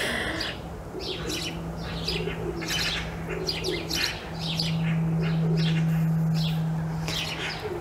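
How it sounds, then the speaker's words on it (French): Small birds chirp and tweet repeatedly near a yellow garden water bowl, with a sparrow present, the bright calls coming in quick bursts over a steady low hum. "Il y a un petit moineau."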